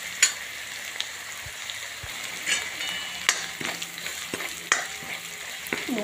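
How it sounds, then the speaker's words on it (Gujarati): Onions sautéing in a pan, with a steady low sizzle and occasional scraping stir clicks, near and alone without talk. "ડુંગળી મસ્ત મજાની શેકી લઈશું આપણે."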